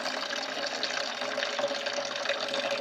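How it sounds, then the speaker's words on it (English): Water runs steadily into a bowl of soya chunks being soaked before frying in a home kitchen, a continuous close splashing pour that lasts throughout with no talking. "So before we fry it, we have to soak it in water."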